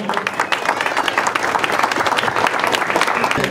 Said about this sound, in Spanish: Para él un aplauso muy fuerte